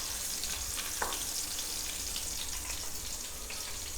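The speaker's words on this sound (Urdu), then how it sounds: "تھوڑا بچ کے فرائی کیجیے گا کیونکہ اس میں مرچیں ایڈ کی ہیں تو وہ اس میں سے پانی نکلے گا فرائی ہوتے ہوئے" Tadka of green chillies frying in desi ghee, a steady close hiss and crackle of hot fat with one sharper pop, continuous and even throughout, no talk.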